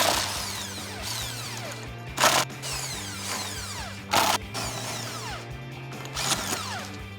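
An impact wrench with an adapter works on aftermarket lug nuts holding the spare tire of a Jeep Wrangler JL, giving a few short hammering bursts over a steady mechanical whine and clicks.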